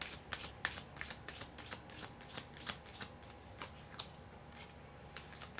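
Tarot cards are shuffled by hand in quick, crisp riffling flicks, a steady rhythm of soft slaps and swishes close up with no talking.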